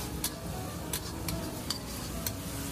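Garlic and chili peppers are stir-fried in a pan, a steady sizzle with light, irregular clicks from a spatula scraping and tossing, close and continuous but fairly quiet.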